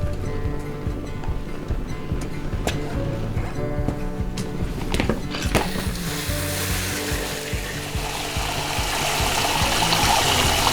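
Water splashes and gurgles steadily into a container nearby, the rushing hiss growing louder and fuller toward the end.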